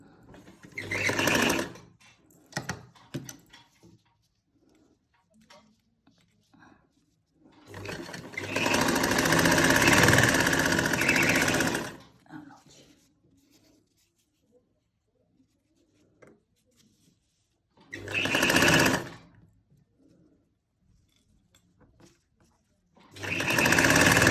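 A sewing machine stitches the neckline of a kurti in several runs: one short burst, a longer steady whir lasting several seconds, then two more brief bursts, with quiet gaps and small handling sounds between.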